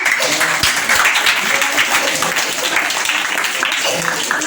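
Schoolchildren at a government primary school assembly clap together in a dense, steady patter that fills the whole stretch, with young voices and chatter mixed in.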